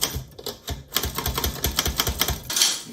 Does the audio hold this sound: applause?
no